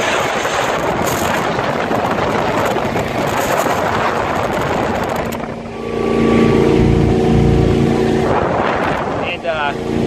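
A 1999 Mariah motorboat runs at about 35 to 40 miles per hour, its engine droning steadily under heavy wind rush and water noise, with a voice speaking over it.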